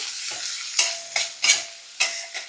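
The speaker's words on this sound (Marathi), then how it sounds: "आणि 2 छोटे बारीक चिरलेले कांदे. कांदा थोडा परतून घेऊया." Chopped onions sautéing in oil with cumin, curry leaves and green chillies for kanda poha, a steady sizzle broken by several sharp stirring scrapes in a close, spoon-against-pan rhythm.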